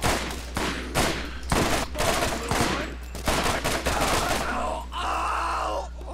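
Gunfire in the Borderlands shooter game, with repeated loud bursts of shots and impacts over a steady low hum, followed by a sustained blast or explosion-like roar near the end.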